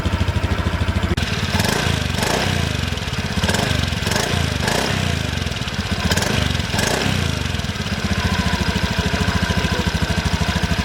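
A Honda Beat Fashion Sport 110cc fuel-injected scooter running, its small exhaust giving a steady, quiet but slightly throaty idle with a few brief revs in the middle, close and continuous, no talking.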